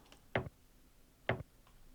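Dry percussion sample in a house track groove, two short sharp ticking hits about a second apart, quiet and isolated.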